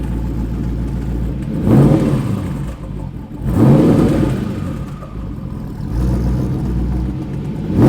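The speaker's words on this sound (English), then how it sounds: "So that is our Audi RS4 engine with 2 turbos, and it is in a VW Transporter" A twin-turbo Audi RS4 engine fitted in a 2007 VW Transporter van idles with a deep rumble and is revved three times in regular surges, each a loud, swelling growl that drops back to idle.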